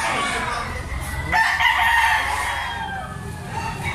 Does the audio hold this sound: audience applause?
no